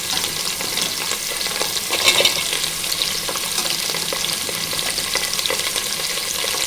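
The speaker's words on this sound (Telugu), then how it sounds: "పచ్చిమిర్చి, కరివేపాకు ఎంత వేసేసుకోవాలండి." Green chillies and curry leaves frying in hot oil for a bitter gourd and tomato curry, a loud, close, continuous sizzle with faint crackles and stirring and no talking.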